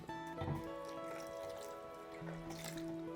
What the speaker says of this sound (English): So now I'm gonna add some more water.